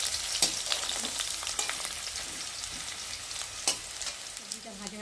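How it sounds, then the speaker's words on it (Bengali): Vegetables sizzling and being stirred in a hot pan, a busy crackling fry with repeated spatula scrapes and clinks, close and continuous with no talking. "দিয়ে একটু সবজিটাকে ভালো করে নাড়াচাড়া করে ভালো করে একটু ভেজে নেব"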